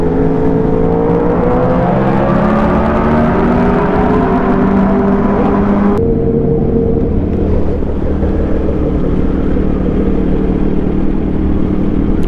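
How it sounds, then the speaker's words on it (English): A Yamaha R1 sport motorcycle engine revs loud and close, with its pitch climbing steadily through a sustained high-pitched whine, then cutting to a lower, steady roar partway through. "Bike sounds so good."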